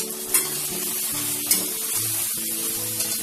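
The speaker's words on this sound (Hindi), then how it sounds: "और अब साथ ही साथ इसमें ये हरी मिर्च हम ऐड करेंगे।" Green chilies go into a frying pan with a spice paste, producing a strong, continuous sizzle and spatter, with a few brief crackling bursts and no voices.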